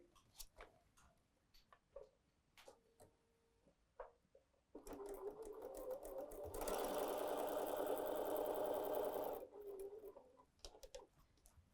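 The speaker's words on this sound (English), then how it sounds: "Let's go sew on the line." An electric sewing machine stitches fabric for a table runner along a marked line: a few quiet clicks, then a steady, fast mechanical whir that runs for several seconds before stopping.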